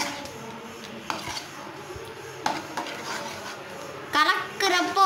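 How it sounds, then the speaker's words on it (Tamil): Four eggs being stirred into a pan of tomato-onion egg thokku, with steady scraping and clinking of a spoon against the pan, some sharper knocks, and a louder burst of stirring near the end. "நாலு முட்டையை நல்லா கலந்து விடணும். அந்த தொக்குலலாம் ஃபுல்லாக போய் சேரணும்."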